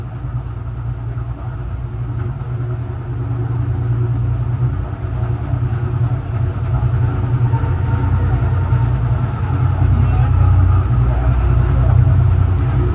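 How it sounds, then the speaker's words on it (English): An empty westbound grain train passes at speed, a steady low rumble of rolling wagons that swells and grows louder toward the end, with no talk over it. "Must be an empty westbound, empty grain train."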